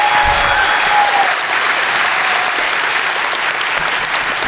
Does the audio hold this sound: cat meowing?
no